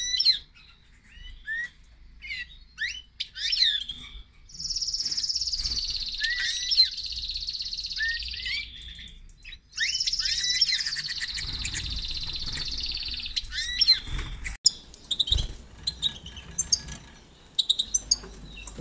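Birds in an aviary flight, including a pigeon chick, give clear sharp chirps and tweets, with sustained dense trilling bursts in the middle and scattered nearby calls and rustles toward the end.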